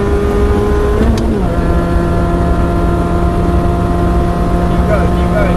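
A race car on the Cadwell circuit at full throttle, its engine a loud, steady drone that shifts pitch once early on and then holds strong and even throughout.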